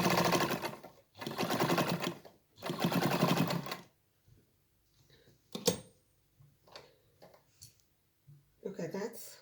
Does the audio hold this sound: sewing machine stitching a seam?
yes